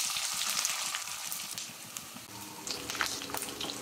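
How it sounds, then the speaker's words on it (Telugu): Onions and tempering spices sizzle steadily in a hot pan, a close, continuous crackling fry with small spits and pops and no voices. "ఈ పోపు అంతా బాగా వేగాలన్నమాట"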